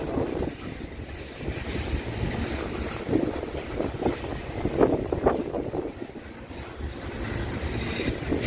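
A Norfolk Southern ethanol freight train led by a Canadian National EMD SD70M-2 and a GE GEVO locomotive rolls past, a steady rumble of railcars with wheel clatter and faint squeals, fairly distant and even throughout.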